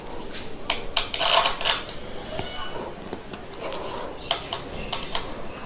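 Metal bolts click and clink as they are fitted back into a carbon racing handlebar riser on a Honda CB 350 motorcycle, a scattered series of short, sharp taps and scrapes, close by and fairly quiet.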